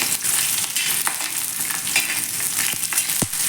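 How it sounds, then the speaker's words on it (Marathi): Green chillies fry in oil with a constant close crackling sizzle, stirred now and then with sharp utensil scrapes and clicks. "हिरव्या मिरच्या थोड्याशा आपण तेलावरती फ्राय करून घेणार आहोत"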